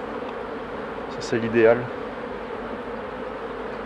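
A steady, close drone of honey bees rises from an open hive on a warm day, continuing evenly while someone speaks briefly partway through.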